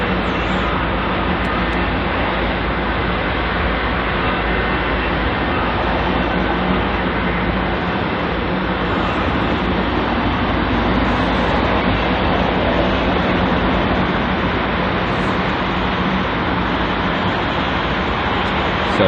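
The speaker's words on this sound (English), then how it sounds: "So just taxiing to the runway is this aircraft here, which is an Airbus A320." An Airbus A320 airliner taxis at Heathrow airport, heard as a steady, loud, broadband jet-engine roar that holds constant throughout with no breaks.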